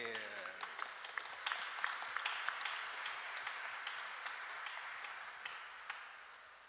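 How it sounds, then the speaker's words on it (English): A crowd at the opening Mass of a national convention claps steadily, a dense wash of applause with a few distinct louder claps, continuing without a break at moderate distance. "We give a big round of applause to everyone who is here."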